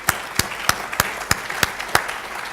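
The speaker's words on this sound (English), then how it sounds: "So again, another round of applause, please." Sparse applause from a small audience at a university venture lab announcement, a handful of distinct, evenly spaced claps ringing out in a quiet room.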